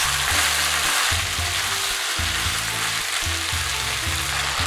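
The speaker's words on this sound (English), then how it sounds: "Add the onion, the mushrooms, the bamboo shoots. Stir from time to time for 1 minute." Onion, mushrooms and bamboo shoots stir-frying for chow mein, giving a loud, constant sizzle and crackle from the hot pan with no voices over it.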